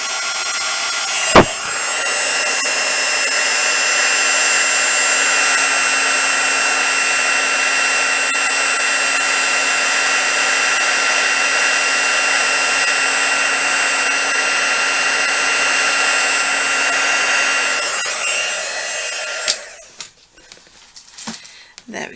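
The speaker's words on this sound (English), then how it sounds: "So here we go, we'll try and emboss this one." A heat gun used for craft embossing on ultra-thick embossing powder runs as a loud, steady whirring blast for about eighteen seconds without interruption, then switches off into quiet handling sounds.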